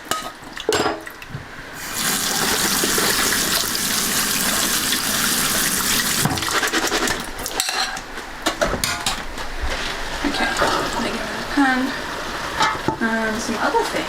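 Tap water runs steadily over vegetables being rinsed, a loud, continuous gushing stream that lasts several seconds. Splashing and handling noises follow as the flow breaks up, and people talk nearby.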